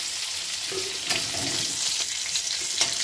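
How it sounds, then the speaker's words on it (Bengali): Crushed garlic frying in hot oil in a Bengali village kitchen, a steady close sizzle with a few faint clinks and stirring scrapes, no voices. "দিচ্ছি থেতো করা রসুন, রসুনটা লাল লাল করে ভেজে নেব।"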